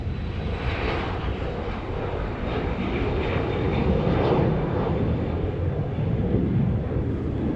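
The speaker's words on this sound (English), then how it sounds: "Airplane." A propeller airplane drones overhead near a business park in Rome, New York, a steady broad engine roar that swells slightly as it passes, with no voices.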